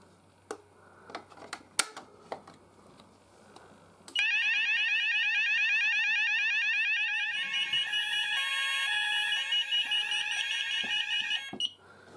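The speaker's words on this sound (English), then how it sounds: "I've changed the Banshee XL sounder to the fast sweep tone" Banshee XL alarm sounder set to a fast sweep tone during a call point test: a few sharp clicks, then a loud, steady, rapidly warbling electronic siren for about seven seconds that cuts off abruptly, heard close with no talking.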